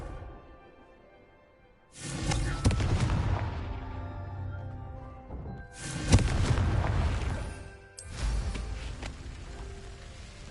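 Confringo blasting spell explosions in Hogwarts Legacy: three loud booming blasts, each hitting suddenly and then rumbling and crackling as it fades, separated by brief quieter gaps.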